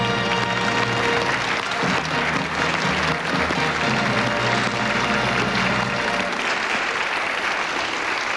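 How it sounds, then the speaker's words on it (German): A studio audience on a German TV quiz show applauds its returning champion with dense, loud, sustained clapping that fills the whole stretch, fading slightly near the end. "Ihr Applaus, Frau Becker."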